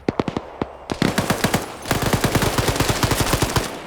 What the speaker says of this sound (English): because they're closer to this active gunfire